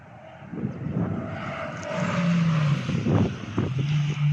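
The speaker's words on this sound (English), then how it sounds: "Coming all the way down the main straight is the Rowdy VX." Vauxhall VX220 race car at a Cadwell Park track day coming down the main straight, a rising engine drone swelling louder over a few seconds with steady wind and road roar.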